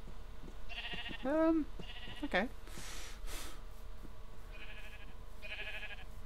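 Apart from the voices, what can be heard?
sheep bleating in the video game Minecraft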